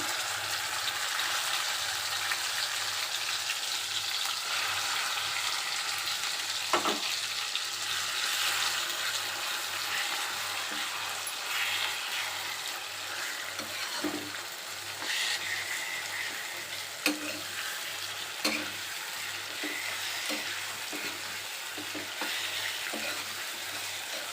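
Onion-chili paste for bitter gourd fry sizzles steadily in a pan with curry leaves, a dense continuous hiss broken by occasional spatula taps and stirs, close and without talk.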